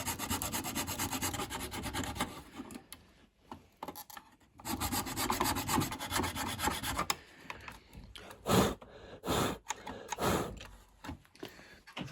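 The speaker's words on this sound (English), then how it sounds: "I need to just shave a bit of that plastic off, like the tiniest bit" A file or knife shaves tiny bits of plastic off a power switch housing, making rough close scraping strokes that come in bursts with short pauses, then quicker separate scrapes toward the end.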